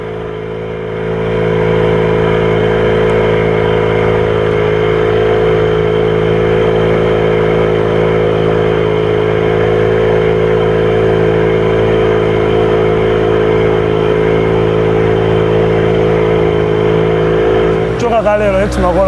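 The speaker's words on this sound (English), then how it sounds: "We hire an engine boat." A long motor boat's engine drones loud and steady on a cruise, with a low hum and harmonic tones, ending with a brief clatter near the close.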